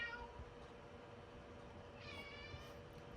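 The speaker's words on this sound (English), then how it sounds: "you get my cats yowling" A house cat yowls faintly, long drawn-out cries at a distance, rising briefly louder partway through over a steady background hum.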